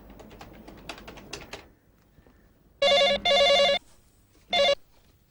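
A telephone rings on an outgoing call, two long electronic ring bursts followed by a shorter third, loud and clear, preceded by a quick run of soft tapping or dialing clicks.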